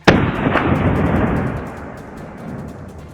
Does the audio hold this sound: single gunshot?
yes